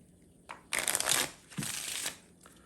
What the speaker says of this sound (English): you can even give the deck a few cuts and even a couple shuffles